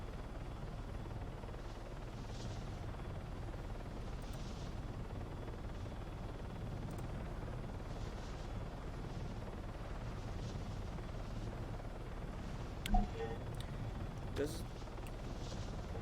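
A helicopter in the video game Arma 3 drones steadily throughout with a low, constant rotor rumble, two sharp clicks or impacts near the end and a voice talking over it.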